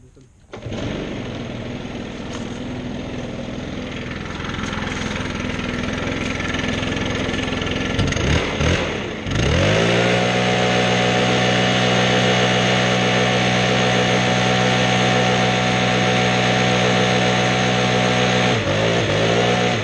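A Stihl BR700 backpack leaf blower fires up about halfway through, shifting from a rough rushing noise into a loud, steady engine roar that dips briefly near the end before holding strong again.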